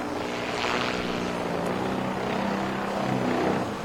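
An RC aerobatic airplane from Extreme Flight flies at What the Huck 2026, a 3D airplane event on the East Coast. Its propeller and engine give a sustained buzzing drone that stays loud and fairly close throughout, with no talking.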